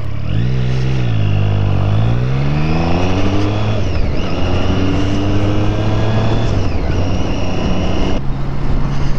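A Triumph Street Triple R motorcycle engine is heard close up while riding, revving and climbing through gears with rising whine, shifting twice, and holding a loud, steady drone throughout.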